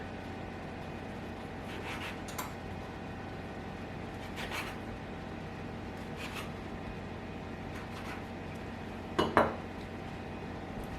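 Floured metal biscuit cutter pressing through rolled baking powder biscuit dough on a counter, a few faint soft taps and clinks over a steady kitchen hum, ending in a sharper clatter.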